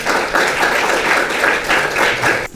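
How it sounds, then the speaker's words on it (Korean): Loud, steady applause from an audience welcoming a pastor to the front at a seminary winter lecture, dense clapping sustained throughout before cutting off abruptly. "앞으로 나오실 때 큰 박수 부탁드립니다"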